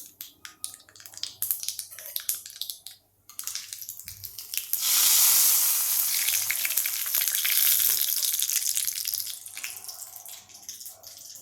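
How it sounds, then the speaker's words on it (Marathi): Hot tempering poured over cooked amaranth leaf vegetable, bursting into a loud, steady sizzle after a few seconds of quieter kitchen clatter, then continuing to crackle until the end. "आता ही फोडणी मी या भाजीवर घालते"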